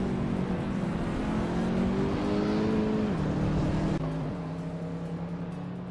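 Race cars launching from the start at the Auto 24 Ring in a racing video game, led by a 2016 BMW i8 hybrid, engines droning loudly with rising then dropping pitch as gears shift, steady and close throughout.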